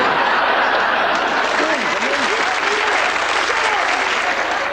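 A television studio audience breaks into loud, dense applause that fills the whole clip, with voices shouting over it.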